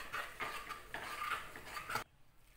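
A metal ladle scrapes and mashes cooked moong dal in a pot, a run of rhythmic knocking and scraping strokes close up for about two seconds before stopping, with no talk.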